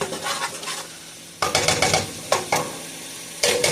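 Onions fry and sizzle in a pan as a utensil stirs them, giving a steady hiss broken by several sharp scraping strokes against the pan.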